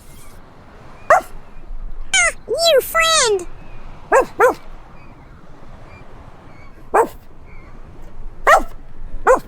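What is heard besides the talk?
dog barking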